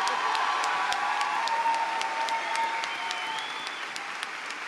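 Sustained audience applause at a concert for a singer, dense and steady clapping from a crowd that tapers slightly toward the end, with no voices over it.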